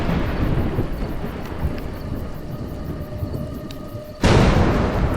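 Thunder rolls as a steady low rumble through a storm, building to a sudden loud crash near the end with heavy rain noise underneath.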